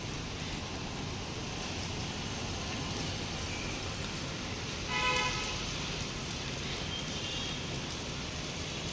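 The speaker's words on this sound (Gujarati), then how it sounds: "અહીંયા વરસાદ એવો પડે છે ને ધીમે ધીમે ચાલુ થઈ ગયો છે" Light rain falls on a Surat street, a steady even patter with traffic noise beneath and a brief car horn toot partway through.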